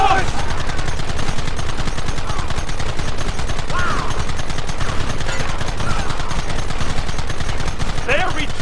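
A loud, dense Red Dead Redemption battle: constant rapid gunfire from many guns for several seconds, with shouting voices breaking through now and then.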